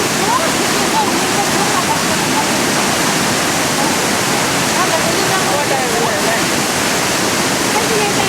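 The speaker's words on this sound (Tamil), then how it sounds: "தண்ணி விழுது பாரு" Water falls at a cave waterfall near Muktinath, a loud, constant roaring rush filling the whole stretch without letup.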